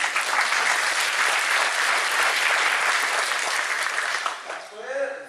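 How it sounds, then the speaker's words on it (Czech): Audience clapping at the opening address of a library conference, a thick continuous applause filling nearly the whole stretch before fading, as a voice begins speaking at the very end. "Já vám děkuji za potlesk"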